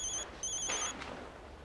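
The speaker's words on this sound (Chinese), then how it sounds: "律师打电话来了" A telephone rings in two short electronic trilling bursts, then falls silent, fairly faint with no talk over it.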